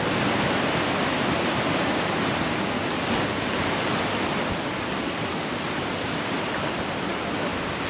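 Sea waves at Ross Island beach in the Andaman Islands, a loud continuous roar of surf, close and unbroken, with no other sounds.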